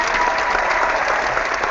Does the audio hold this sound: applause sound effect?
yes